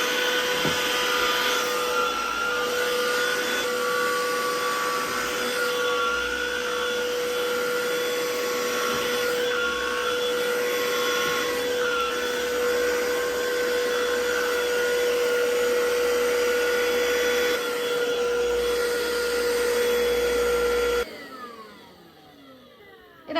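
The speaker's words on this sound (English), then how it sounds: "Now let's vacuum the floor." A cordless vacuum cleaner runs across a floor with a steady high motor whine and airflow hiss for about twenty seconds, then switches off and winds down.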